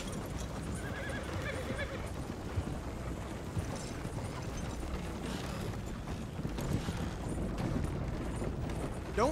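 Horses in the game Red Dead Redemption 2 whinny and gallop among thick outdoor game ambience, hooves drumming steadily under a dense background wash, with a neigh standing out early on.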